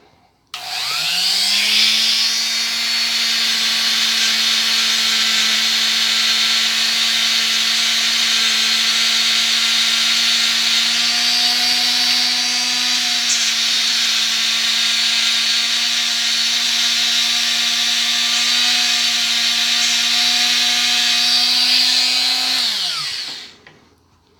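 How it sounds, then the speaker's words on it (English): A motorized buffing wheel polishes guitar screw heads with rouge while building a Stratocaster, running as a loud, steady whine that holds unbroken for over twenty seconds before spinning down, with no talking. "what I'm going to do is polish up the heads on these like I did the neck plate screws."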